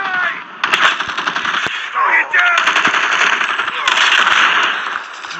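Rapid automatic gunfire in Call of Duty rattles in loud, dense bursts with short gaps between them, and voices can be heard faintly through the shooting.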